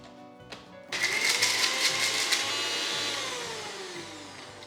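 A kitchen mixer grinder crushes ginger and garlic for Lucknowi chicken biryani, starting abruptly and running as a loud, steady motor whine with a rising pitch that drifts downward as the blades work through the mix.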